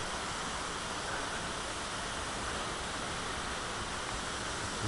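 Small stream flowing below a waterfall in Costa Rica, a steady broadband rush of water that stays constant and fairly loud throughout with no other sounds.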